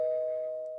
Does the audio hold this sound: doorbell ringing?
yes